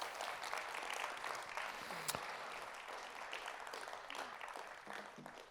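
Audience applause at a conference closing session, a steady wash of clapping from a crowd that keeps an even level throughout, with a brief louder clap near the middle.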